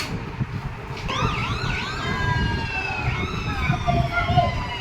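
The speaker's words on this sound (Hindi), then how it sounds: "उस सायरन को क्या बोलते हैं? Air red siren alarm." A loud air raid siren wails with rising and falling tones during a civil defence mock drill at a school, several overlapping sweeps sounding continuously over a low rumble of background noise.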